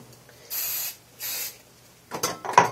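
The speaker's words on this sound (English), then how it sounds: "Then you want to use a little more hairspray than what I'm using" Hairspray misted onto curled stage hair, two close, steady hissing bursts of about half a second each, followed by brief handling clatter.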